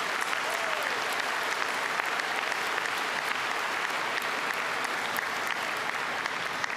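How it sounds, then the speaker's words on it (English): Steady round of applause from a commencement ceremony audience, dense continuous clapping at moderate distance holding evenly for several seconds without speech over it. "So let's give them a round of applause."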